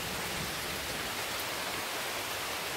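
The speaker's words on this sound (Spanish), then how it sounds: "Miren cómo llueve, amigos." Rain falls steadily outdoors while someone shelters under a small tree, a dense, even hiss of downpour with no break and no voices.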